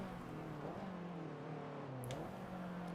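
A car engine in a racing video game drones steadily, with a sustained tone that shifts slightly in pitch as it revs, continuous and fairly loud with no talk.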